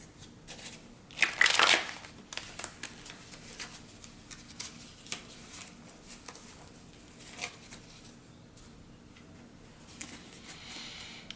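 A deck of pick-a-card reading cards is shuffled, opening with one loud riffling burst, then quieter intermittent rustling and sliding of cards nearby, with no speech.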